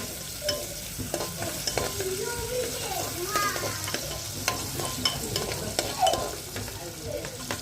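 Garlic and onion tempering sizzles in a pan, a constant close crackle with irregular clinks and scrapes from stirring, the spatter rising and falling.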